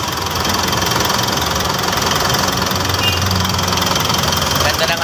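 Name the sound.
Mitsubishi car engine idling to warm up after oil seal work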